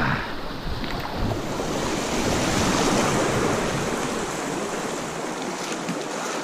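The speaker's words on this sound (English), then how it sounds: "Look at that, 14-foot Cuda juking and jiving through these rapids" A 14-foot Jackson Cuda fishing kayak runs river rapids, with loud, steady rushing whitewater filling the whole scene and some wind buffeting the microphone, with no talking.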